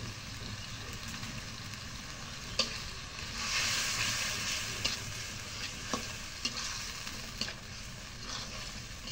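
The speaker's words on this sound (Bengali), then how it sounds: "এখন মশলাটা কষানো হয়েছে" Ground turmeric and chilli are sautéed for bhuna khichuri in a pan. An even frying hiss carries a string of light spoon clicks and scrapes, close and moderately quiet, with no voices.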